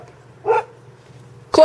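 A pet dog named Chloe gives two short, sharp barks about a second apart, moderately close, over a low steady hum on a cold, still day during a snowstorm.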